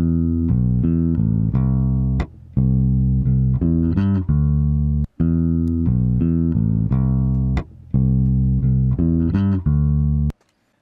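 Bass guitar notes played with the fingers, each pluck carrying a sharp click where fingers touch the strings and pickup, a steady run of sustained tones without pauses and no voices.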